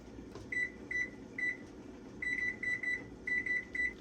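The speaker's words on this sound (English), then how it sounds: "So I'm setting the timer now." A series of short electronic beeps, some single and some in quick runs, as buttons are pressed on a kitchen timer over a faint background hum.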